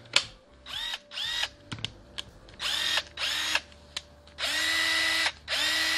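A repaired Aimsak AW 418Q 18V cordless impact wrench runs in a series of short whirring bursts, then longer steady runs, close and loud, with no talk over it.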